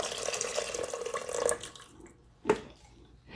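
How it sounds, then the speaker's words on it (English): Really hot water poured into an Instant Pot over lentils, a continuous close splashing stream that stops after about a second and a half, followed by a single drip or splash. "So for 2 cups of lentils, I am adding 4 cups of really hot water."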